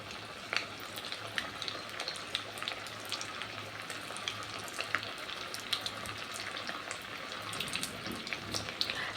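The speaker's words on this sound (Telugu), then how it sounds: "బాండీలో కొంచెం ఆయిల్ వేసి, ఫ్రైకి సరిపడినంత ఆయిల్ వేసి ఇంకా క్యాలీఫ్లవర్ని ఫ్రై చేస్తున్నాను." Cauliflower pieces fry in oil in a kadai, giving a dense, continuous close-up sizzle with bright crackles throughout, no voices.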